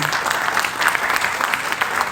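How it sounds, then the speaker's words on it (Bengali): An award-ceremony audience applauds the parents of honourees, a dense, steady patter of many clapping hands sustained loud throughout. "তো মা বাবাদের জন্য একটা জোরে হাততালি দিন।"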